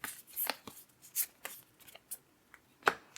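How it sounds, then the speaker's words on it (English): Command cards for the Warzone Rumble Pack tabletop game are shuffled quickly in a few short riffling bursts, soft and close, with brief pauses between them. "We will shuffle the command cards really quickly for our wild"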